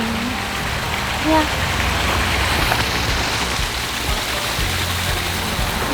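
Water tumbles steadily down a pump-fed, hand-drawn garden water feature at a mid-century modern home, a continuous dense splashing wash close by, with a brief spoken word near the start.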